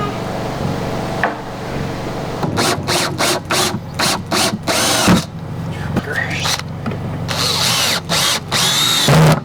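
A power drill whirs in a run of short bursts, driving screws to fix a floor mount, starting and stopping repeatedly, loud and close, with some scraping and handling noise between.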